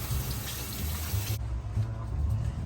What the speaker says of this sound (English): I'm going to rinse some cilantro up the pan.